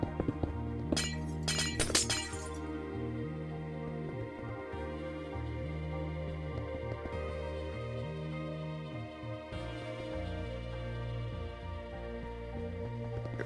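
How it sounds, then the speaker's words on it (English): Glass blocks placed in the video game Minecraft make a few quick, crisp clinks and shatter-like taps early on, heard over steady background game music. "I'll go ahead and start adding the new glass right here"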